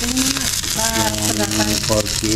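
Pork ribs and vegetables boiling in a pot on the stove, a steady bubbling, continuous crackly hiss with a person talking over it.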